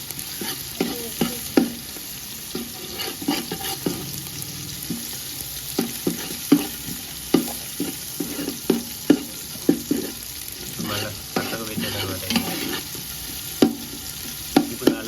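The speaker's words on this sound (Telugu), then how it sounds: "వెల్లుల్లి పేస్ట్ అంతా కొంచెం ఫ్రై అయిపోయింది అనుకుంటా" Ginger garlic paste and tomatoes frying in a pan, a constant loud sizzle under repeated scraping stirs that come at a fairly even rhythm over about fifteen seconds, with no voices.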